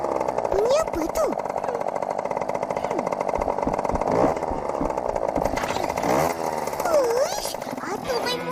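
Cartoon motorcycle engine revving, a buzzy rasping drone that rises and falls throughout, heard under lively talk.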